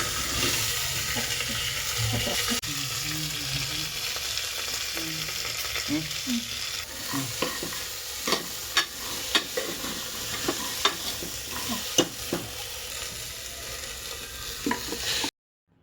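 Potatoes and rajma beans are tempered with curry leaves and garlic in hot oil. A steady, loud sizzle runs throughout, with sharp spoon scrapes and clicks against the pan in the second half.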